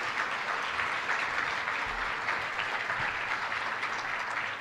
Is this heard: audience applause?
yes